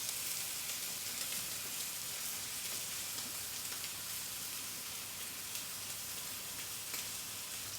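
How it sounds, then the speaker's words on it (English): A Japanese tomahawk beef steak sears in a hot pan, giving a continuous crackling sizzle with fine spattering pops, steady and close, with no voices. "You want to get a really nice sear to it"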